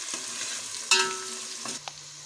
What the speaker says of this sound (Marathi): थोडासा लाल होईपर्यंत परतायचं आहे